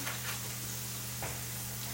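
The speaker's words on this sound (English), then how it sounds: "You can still hear a nice sizzle on it." Steady low sizzling hiss of Japanese A5 Wagyu beef searing on a hot salt block, with a couple of brief crackling pops, no voices.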